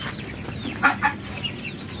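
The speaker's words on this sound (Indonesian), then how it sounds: "Ini jenis peranakan hewan unggas mentok dan ayam." Crossbreed poultry from a muscovy duck and chicken on a village farm, a couple of short clucking calls standing out over quiet background noise.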